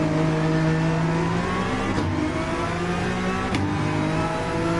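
A newer-generation Honda NSX race car in Gran Turismo 7 drones at steady high revs, a loud continuous engine whine with slight pitch shifts as it holds on, no talk over it.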